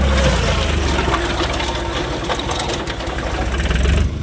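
A tractor engine runs hard while driving a rotavator, a loud, continuous throbbing drone that holds steady with slight surges near the end.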